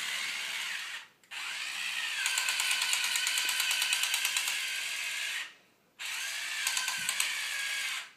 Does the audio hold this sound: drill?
yes